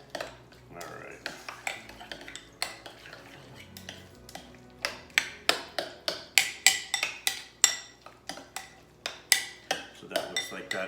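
Cutlery clinks and scrapes against a bowl as egg salad seasoned with paprika is stirred, a quick irregular series of sharp taps and scrapes, fairly close, with no talking.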